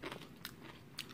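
A sugar-pickled maesil green plum is bitten, giving a few faint, crisp crunches spaced about half a second apart, close and quiet with no talking.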